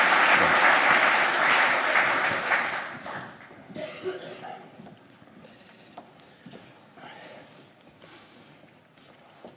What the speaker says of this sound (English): A warm round of applause for all